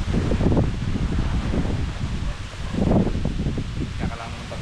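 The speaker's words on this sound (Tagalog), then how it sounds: "Grabe yung hangin to oh. Lakas no." Strong wind buffeting the microphone outdoors near the sea, a continuous loud rushing roar that swells and eases in gusts.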